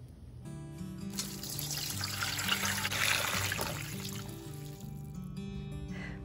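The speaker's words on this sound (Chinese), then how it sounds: "把腐竹在清水里泡软" Water runs into a kitchen bowl to soak dried tofu skin, a steady trickling and splashing pour that holds for several seconds at a moderate, close level before cutting off.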